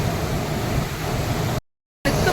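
Pumped water at Neyyar dam splashes in a steady, close, broadband rush that cuts out abruptly for a moment before resuming.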